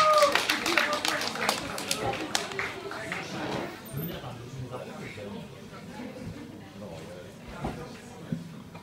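An audience at a music and poetry evening in a club in Tver claps loudly in a dense burst of applause that gradually thins into scattered claps, with voices and room murmur underneath.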